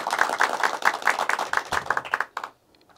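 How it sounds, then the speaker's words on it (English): A studio audience at a kids' talk show claps in a dense, quick, rhythmic round of applause that runs steadily for over two seconds, then stops abruptly, leaving near silence. "Give yourselves a round of applause, everyone."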